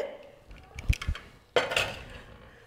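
Metal pot and lid of a pressure cooker clink and clatter while it is opened during Kerala sambar cooking, with a few sharp close knocks followed by a brighter ringing clang.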